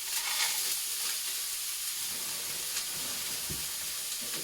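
Onions frying in a pan for lasagne give a steady, close sizzle and hiss that runs throughout at moderate volume, with a few soft stirring knocks and no voices.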